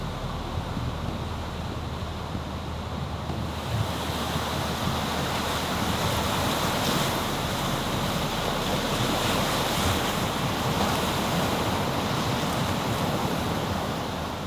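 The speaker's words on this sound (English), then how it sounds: "The waves are still absolutely slamming out there" Heavy ocean surf pounds a reef on a remote island during monsoon season, a continuous loud roar of breaking waves mixed with strong wind buffeting the microphone, with no voices.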